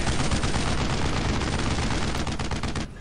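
Sustained, dense gunfire fills a World War II battle in the video game Brothers in Arms: Road to Hill 30, rapid overlapping shots and bursts roaring loud and continuous before cutting down abruptly near the end.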